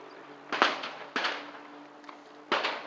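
Gunshots from target practice at the Richmond Rod and Gun Club, three distant sharp pops spaced unevenly over a few seconds against a quiet outdoor background.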